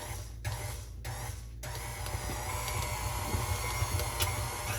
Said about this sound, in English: you can hear my mixers kind of sounding a little different